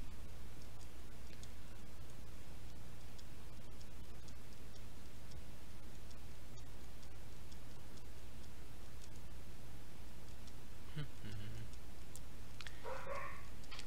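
Tamed dogs bark a few times in the video game Minecraft, the short barks rising near the end over a steady low game ambience.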